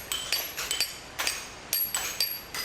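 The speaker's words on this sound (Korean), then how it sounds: "복원 현장에 석재를 자르기 위해 기계가 아닌 정과 망치가 등장했다" Steel chisel struck with a hammer to cut stone by hand, traditional masonry at the Sungnyemun gate restoration site in Seoul: about eight sharp, bright metallic clinks in an uneven rhythm, fairly close, with nothing else heard between strikes.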